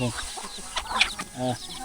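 Chickens cluck in a village house surrounded by mountains, a few short clucks and squawks from nearby hens, with a rising rooster-like call near the end.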